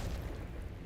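A Semtex grenade detonates in Call of Duty Black Ops 6, giving a short, dense, low booming burst that fills the whole second at steady loudness with no speech over it.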